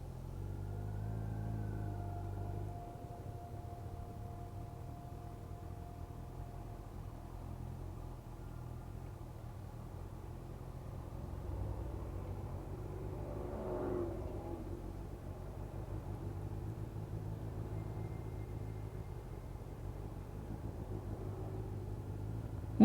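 Sports cars heading out of town pass by on a road, heard as a steady engine rumble with a swelling pass-by around the middle, steady and moderately close, with no talking.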